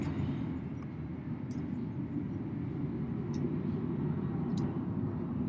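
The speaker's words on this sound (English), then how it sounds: "A lot of planes going by." Aircraft near Burbank airport pass overhead as a constant distant low rumble, steady and moderately faint throughout, with no speech.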